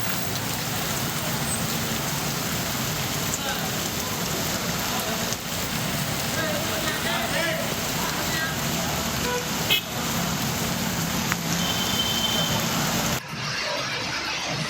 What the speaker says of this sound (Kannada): ಈಗ ಟ್ರಾಫಿಕ್ ಜಾಮ್ ಆಗಿದೆ.